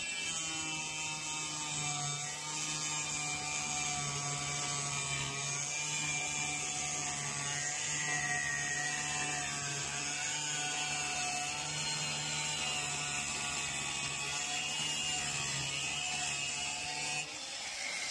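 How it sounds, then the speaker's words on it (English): An angle grinder cuts along a line in the metal of a clamped antique desk, giving a continuous high whine with steady harmonic tones and faint hum, running unbroken for the whole stretch with no voices. "So I'm just going to cut it down the line."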